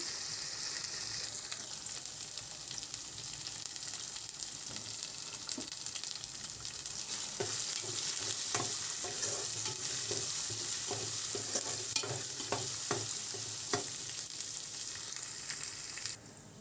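Chicken pieces fry in a pan with turmeric and softened onions for a spicy chicken fry, giving a constant sizzle under a series of scraping stirs that grow busier midway, close and moderately loud, with no talking.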